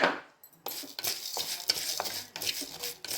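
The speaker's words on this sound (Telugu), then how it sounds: "ఒక టూ స్పూన్స్ ధనియాలు ఒక హాఫ్ స్పూను మిరియాలు ఇవన్నీ వేసి చక్కగా వేయించుకోండి" Coriander seeds and black peppercorns stirred as they dry-roast in a pan, a close, busy scraping and rattling with soft sizzle and brief knocks of a utensil against the metal.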